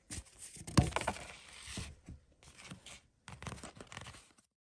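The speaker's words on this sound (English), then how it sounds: "let me shuffle and we'll get the next card" Tarot cards being shuffled in bursts of papery riffling and patter, with short pauses between bursts, close and fairly quiet, no talking.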